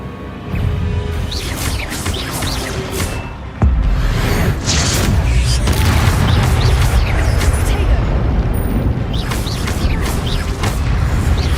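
Spell-casting in the Hogwarts Legacy video game, a loud magical blast of the Expelliarmus disarming spell amid dense booming combat effects and music that swell sharply partway through and stay full to the end.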